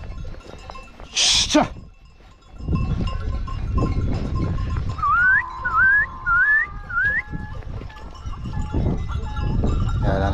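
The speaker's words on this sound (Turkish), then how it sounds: "Davar sesi, çan sesi." Goats and sheep with bells clinking, set against outdoor ambience, with a few short rising whistles in the middle and a sharp burst near the start.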